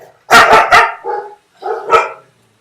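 Dogs bark close and loud, a quick burst of three sharp barks followed by two softer, separate barks, with no talk.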